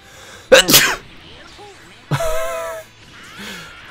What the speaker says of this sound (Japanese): くしゃみで必殺技を避けたぞ。